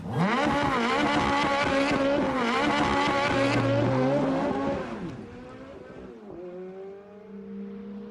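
A Ferrari F430 coupé engine revs hard under acceleration, its loud rising howl climbing through the gears in a sustained roar before easing off into a lower idle-like drone.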